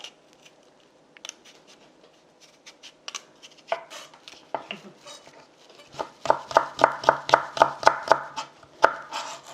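Soft, irregular scraping and slicing of a knife peeling a cucumber on a cutting board, building into a quicker run of crisp cuts toward the end.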